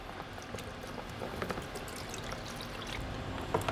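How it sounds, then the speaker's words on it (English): Coolant pours steadily in a continuous trickling stream into a funnel, close by, with a soft splash near the end, during a ZF6HP26 transmission fill on a BMW 545i E60. "So let's pour the coolant into here and then we'll just suck it out of there."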